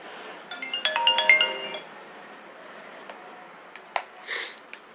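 A phone ringtone from an unknown caller plays as a short melodic run of bright tones lasting about a second, then gives way to quieter room sound with a few faint clicks and a soft rustle.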